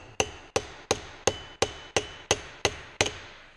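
A flat hammer strikes a sheet metal seam nine times in a steady, even rhythm. Each blow is a sharp, close metallic impact with a short ringing decay.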